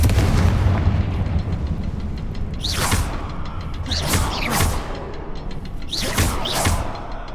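Confringo fire spells explode in Hogwarts Legacy, three loud booming blasts with whooshing sweeps over a dense, rumbling game soundscape and no talk.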